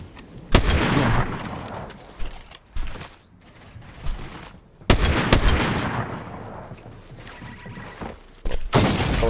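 Sniper rifle gunfire in a video game, heard as a few sharp, loud shots spaced several seconds apart, each followed by a decaying tail and mechanical handling noise between the blasts.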